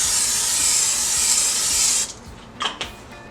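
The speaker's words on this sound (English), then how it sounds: "olive oil cooking spray." A steady olive oil cooking spray hisses for about two seconds, then stops, followed by a few faint clicks and light handling sounds nearby.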